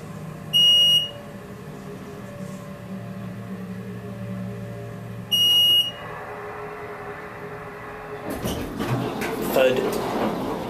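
Two short, bright electronic beeps from an Otis hydraulic elevator in a parking garage, evenly spaced several seconds apart over a low hum, followed by a burst of mechanical clatter and rumble as the car starts moving.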